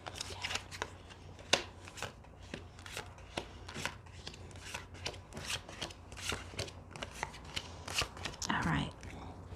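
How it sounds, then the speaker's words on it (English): Tarot cards riffled and shuffled by hand in a quiet room, a run of crisp, quick slaps and flutters at close range, with a brief louder burst near the end. "One more shuffle."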